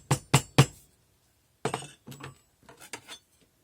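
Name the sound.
tapping the end of a mandrel down on a casting flask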